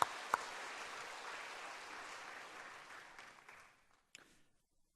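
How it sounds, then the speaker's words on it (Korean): Church congregation at a worship service applauding, a broad wash of many hands clapping that starts full and gradually thins and fades away, with one last scattered clap near the end. "다시 한번 영광의 박수를 올려드리도록 하겠습니다"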